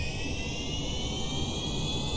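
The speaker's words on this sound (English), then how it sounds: "engine on." An aircraft engine runs after start-up, a steady, unbroken roar with a sustained high whine layered over broadband rumble, even in level throughout.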